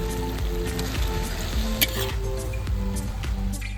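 Cooked rice is tipped onto fried vegetables in a hot pan for Schezwan fried rice, producing a dense, moderate sizzle with soft stirring and scattered clicks, no talking.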